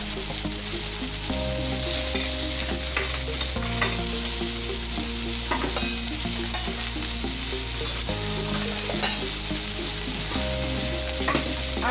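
Rohu fish curry sizzles loudly in a pan while being stirred, a constant frying hiss with scraping clicks and a low steady hum beneath.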